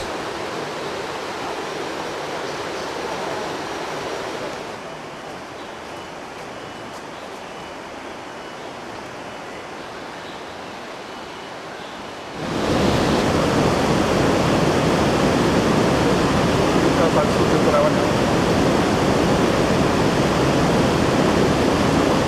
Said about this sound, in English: The roaring and splashing of the turbulent flow amid the rocky formations is a sight to behold.